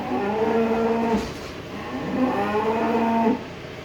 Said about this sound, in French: On a 2 vaches à sortir de là pour les remettre avec leur veau